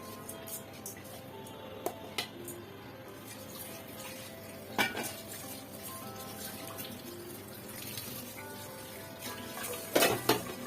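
Washed red rice goes into a cooking pot in a home kitchen, with metallic clinks and knocks of the pot and utensils, light sloshing water and a scattering clatter near the end.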